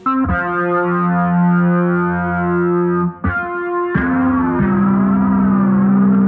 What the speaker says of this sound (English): turn on this distortion with this flanger and just have it sort of glide over the section